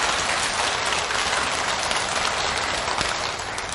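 A temple audience at a Buddhist dharma talk claps in a dense, steady, hissing wash that holds evenly throughout with no voices over it.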